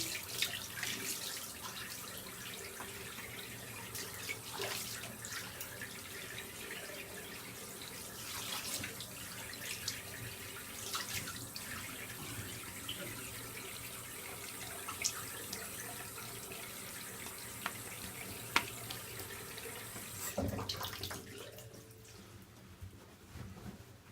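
A tap runs steadily while a razor is rinsed off during a wet shave, the water flow loud and continuous at close range for most of the stretch before cutting off near the end.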